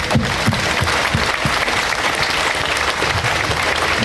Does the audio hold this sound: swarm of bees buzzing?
no